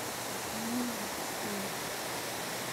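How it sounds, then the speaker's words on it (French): The first cascades of a waterfall along a hiking trail near Akchour in Morocco make a soft, steady broadband rush with no distinct events, faint and continuous throughout. "Là, c'est les premières cascades."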